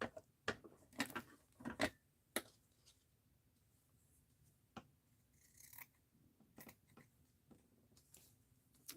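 Scissors cutting wrinkled crinkle fabric, a handful of crisp close snips clustered early, followed by sparse quieter cuts and rustling across a mostly quiet stretch.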